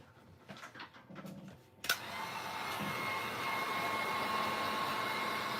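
A dryer kicks on abruptly and blows with a steady, loud whooshing drone over fresh resin art on a gold canvas with a hand-cut glass heart, after a few seconds of quiet handling noises.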